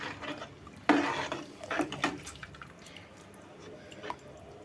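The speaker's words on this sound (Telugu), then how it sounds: "నేనైతే బియ్యం అన్నీ వేసుకున్న తర్వాత నేనైతే కలుపుతున్నాను" A spoon stirs rice through water in a cooking pot for bagara rice, making wet swishes and light scrapes against the metal, with a few clinks and drips at close range.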